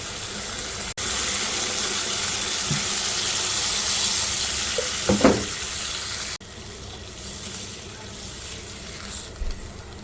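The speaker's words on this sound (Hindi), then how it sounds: "अब मैं इसमें डाल दूँगी सिर्फ 1 गिलास पानी, जिसके अंदर ये सब्ज़ी जो है वो गल जाएगी अच्छे तरीके से।" A glass of water poured into a pan of frying pea and potato curry raises a loud, steady hiss and sizzle for about five seconds, with a brief bubbling burst near the end before the sound drops to a quieter simmer.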